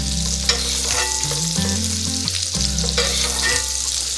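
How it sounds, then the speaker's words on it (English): Burgers sizzle steadily in melting butter in a Staub cast iron skillet, a loud, continuous frying hiss with a few faint scrapes and clicks, no voices. "as that butter melts, I'm going to spoon it over the burgers here"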